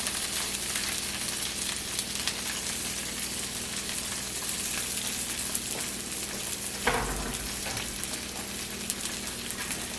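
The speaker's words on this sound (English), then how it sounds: "Now we'll put our lobster in the pan where we've added our 2 teaspoons of oil." Lobster frying in a pan with two teaspoons of oil gives a steady, even sizzle that runs the whole time, with one brief louder crackle partway through.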